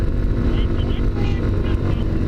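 A Junak RX 1 motorcycle climbs a hilly, winding road in third gear, its engine a loud, close, steady drone with a rider's voice over it.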